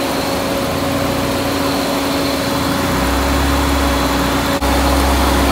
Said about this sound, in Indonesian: Motornya udah muter.